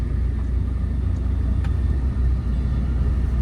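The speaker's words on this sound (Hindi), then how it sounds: "अब स्पीड बढ़ाओ और अब क्लच दबा के थर्ड गियर करो मिड में" Car cruising on a highway while the driver builds speed and shifts into third gear: a steady, loud low engine rumble with road noise, continuous and close, with no clear break or rev change.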